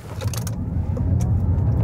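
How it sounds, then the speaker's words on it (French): A Lotus Eletre R electric SUV pulls away under full launch-control acceleration in sport mode, giving a steady low mechanical drone and whine that builds without gaps, with brief faint high clicks early on. "je vais tenter un launch control en sport. Je reste appuyé sur le frein. J'accélère à fond."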